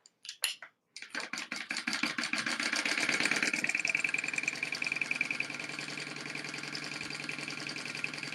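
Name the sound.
sewing machine sewing along the raw edge of a tote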